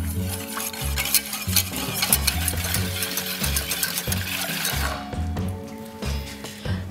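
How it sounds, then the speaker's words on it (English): Pumpkin spice pancake batter whisked in a bowl, a steady rhythmic stirring with clinks of the whisk against the sides, close and continuous. "we're going to whisk it together"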